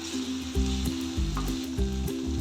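Tomatoes and slit green chillies fry in a pan in a home kitchen, giving a steady, bright sizzle throughout. A low, rhythmically pulsing tonal sound plays underneath, with no talk.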